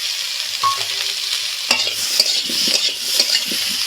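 Thick-cut chopped onion and tomato frying in a pan, with a steady loud sizzle and stirring scrapes of a spatula, close and with no voices.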